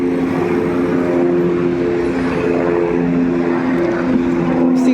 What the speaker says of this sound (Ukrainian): не знаю, чи ви зможете побачити літак, невеличкий літак літає